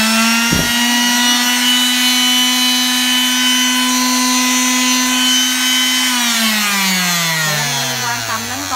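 A small Makita mini electric sander for the Japanese 100 V domestic market runs with a loud, steady high-pitched motor whine, then winds down in pitch near the end after a brief click.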